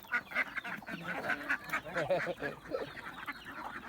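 Native ducks quack repeatedly on a small farm run by an elderly keeper of ducks and chickens, a busy overlapping chorus of calls, some geese-like honks mixed in, close and steady throughout.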